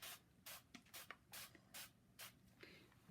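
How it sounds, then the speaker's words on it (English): Several short, soft spray bursts of rubbing alcohol at a steady rhythm, a quiet hiss each time, with near silence between them and a louder knock at the very end. "I am going to spray a little bit of that rubbing alcohol"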